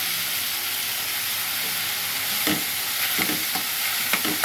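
Brinjal pieces frying in a pan of dried fish and tomato curry, a continuous close sizzle with scraping stirs that grow more frequent toward the end, and no talking.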